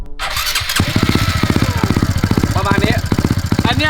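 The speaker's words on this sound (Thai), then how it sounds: "อันนี้จะเป็นเสียงท่อพี่แดงนะ" A motorcycle with an aftermarket exhaust pipe revs hard and rhythmically, rapid pulsing bursts close by, with a voice talking over part of it.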